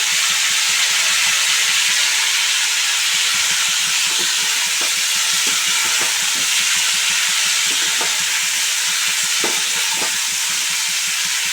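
Cauliflower frying in oil and stirred constantly, a loud, dense hiss of sizzling that runs without pause, with faint scraping strokes of the spoon underneath.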